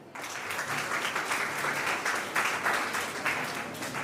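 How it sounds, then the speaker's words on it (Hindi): An audience at a lecture on Rani Durgavati claps loudly for several seconds, a dense continuous patter of many hands that swells after a brief quiet start, with no speech. "मैं चाहता हूं कि आप अपने लिए एक बार जोरदार ताली बजा दें।"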